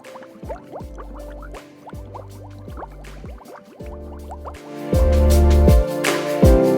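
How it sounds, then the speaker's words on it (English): Natural hot spring water at Wild Rose (Milford Sweat) Hot Springs in Idaho bubbles up in a steady run of close, hollow plops and gurgles that grow louder toward the end. "you can actually see where the water is bubbling like that right there."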